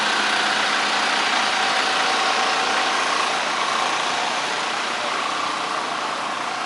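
Food truck engines idling outside City Hall on a Toronto downtown street, a steady broadband hum that runs unbroken and fairly loud throughout.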